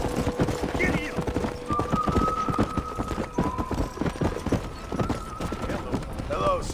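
Hooves of a galloping horse in Red Dead Redemption pound in a quick, steady rhythm close by, with a brief whinny near the start and end and faint background tones.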